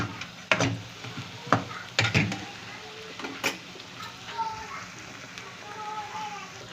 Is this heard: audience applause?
no